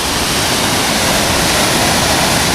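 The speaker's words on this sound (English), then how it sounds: "Another waterfall, only a little one" A small waterfall in North Wales gives a steady, dense rush of falling water, loud and close, with no other sounds.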